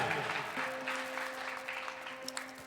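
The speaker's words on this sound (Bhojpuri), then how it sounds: "इस भाई के नाम पे एक बार जोरदार ताली बजा दीजिए" An audience at a live stage event claps in a moderate, even patter of applause that lasts throughout, heard from some distance over a sustained musical tone.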